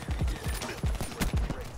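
Gunfire in the Black Ops 3 video game, a quick run of about five muffled, low thumping shots at an even rhythm.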